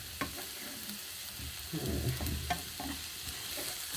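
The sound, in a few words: vegetables cooking in a pan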